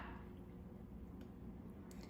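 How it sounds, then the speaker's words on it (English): Butternut squash cheese sauce pours over noodles in a pot, a soft, close squishing and dripping of thick liquid, quiet and steady, with no talk. "we're just gonna pour this over our noodles in the pot"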